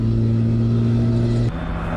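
A PAL-V1 Personal Air and Land Vehicle, a flying car, drives on the ground with a steady, loud engine hum that holds an even pitch, then drops to a lower tone partway through.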